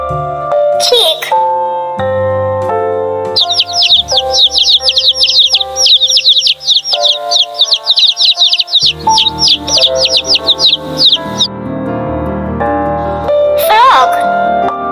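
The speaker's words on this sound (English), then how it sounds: "Chick." A chick peeps in a rapid, unbroken stream of high chirps lasting several seconds, set within a children's animal-sounds song with music playing underneath.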